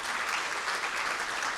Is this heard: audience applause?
yes